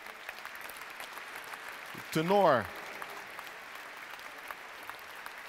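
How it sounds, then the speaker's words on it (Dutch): Concert audience at a radio Christmas concert applauds as the soloists come on, a steady, fairly distant wash of clapping with someone briefly speaking over it. "geef je een hartelijk applaus"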